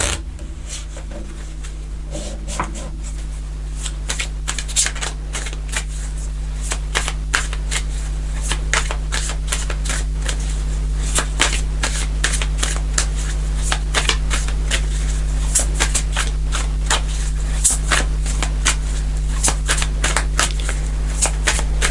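Tarot cards shuffled steadily on a table for about twenty seconds, crisp riffling flicks repeating over a constant low hum in the room, no voices.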